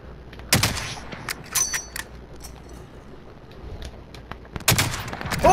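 Sniper rifle fire in a shooter video game: a few sharp, loud cracks spaced seconds apart, with scattered fainter clicks and mechanical handling noises between them and a final shot near the end.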